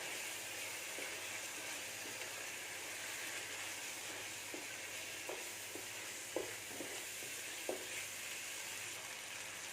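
Pepper chicken with spices sizzles steadily in a pan while a spoon stirs it, faint scrapes and clinks breaking through the frying hiss, no voices.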